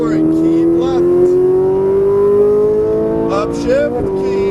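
A Ferrari 458 Italia engine on a race track howls loudly under throttle, its pitch climbing steadily down the straight, with brief interruptions where a voice talks over it.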